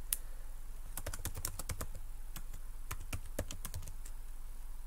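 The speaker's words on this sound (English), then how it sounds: "you can tell I can't type very well" Typing on a computer keyboard, an uneven run of close, crisp key clicks arriving in quick clusters with short pauses between them, and no voices.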